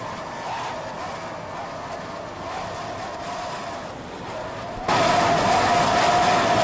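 A racing powerboat driven by Mercury motors at the 1986 Key West World Championships, a steady engine drone that swells louder as the throttle opens.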